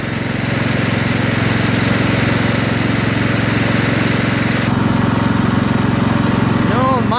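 A Craftsman LT1000 lawn tractor with a Kohler Command CV460S engine runs steadily nearby, a continuous loud idling drone with an even rhythmic pulse throughout and no change in pitch.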